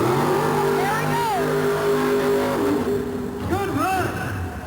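A 1989 USHRA monster truck roars at a Pittsburgh mud bog race, its engine droning loudly and shifting pitch while an announcer talks over it.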